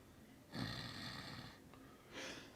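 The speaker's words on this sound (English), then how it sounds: "This dude really is snoring loud." A man snoring loudly, two rough, drawn-out snores, the first long and strong, the second shorter, with a quiet pause between them.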